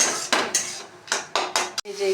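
Onion, ginger and garlic paste fried with spices in a pan, stirred with a metal utensil in a series of quick, close scraping strokes and clinks against the pan, with a faint sizzle beneath.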